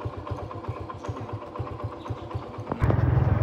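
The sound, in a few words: motorbike ride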